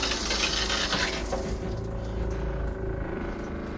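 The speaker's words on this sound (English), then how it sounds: "So, I'm going to try to do the shower here" Water from a Winkelman Radiance portable travel shower runs steadily, a close, continuous hiss and splash that holds even throughout with no voices over it.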